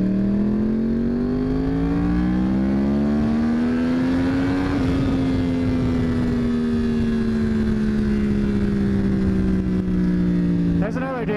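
A car drives close past, its engine drone climbing steadily in pitch as it approaches and then sliding lower as it pulls away, loud and continuous before fading slightly at the end.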